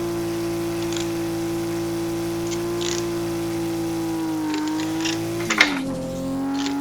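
In the Assetto Corsa racing game, a Toyota Altezza engine holds a steady high drone, then the pitch dips and rises with a sharp gearshift blip near the end, with faint tire and wind noise alongside.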